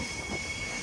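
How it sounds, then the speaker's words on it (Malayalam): The Saraighat Express pulls into Kamakhya station near Guwahati, giving a brief steady rumble of rolling carriages under a thin, high, sustained wheel squeal. "ട്രെയിൻ അങ്ങനെ കാമാക്യ സ്റ്റേഷനിലേക്ക് എത്തിക്കൊണ്ടിരിക്കുകയാണ്"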